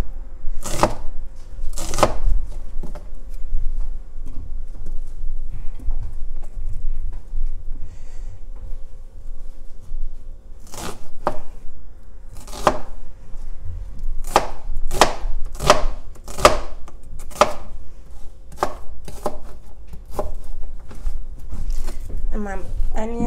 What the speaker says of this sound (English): And here I have my onions. You can slice it up.